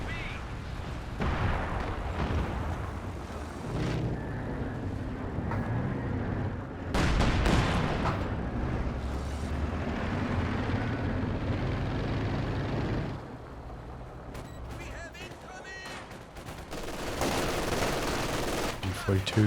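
Frag bombs burst among conscripts in Company of Heroes 2 amid rattling gunfire and booming blasts, with dense, loud battle noise running throughout under a commentator's voice.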